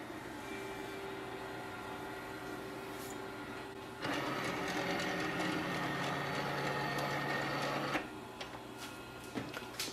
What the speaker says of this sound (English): If you click document, it will start scanning and send a command for the printer.